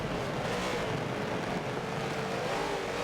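Race cars in a BMW Z4 GTE racing video game at Silverstone, a steady loud engine drone holding throughout with no talking, cars running close near the pit lane exit.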